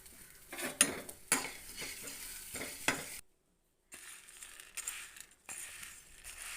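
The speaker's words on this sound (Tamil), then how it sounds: "இப்போ கடலை பருப்பை சேர்த்து வறுத்து எடுத்துக்கலாம்" Chana dal roasts dry in a pan for idli podi as a spoon scrapes and stirs it in quick, close clinking strokes, broken by a brief pause before the stirring starts again.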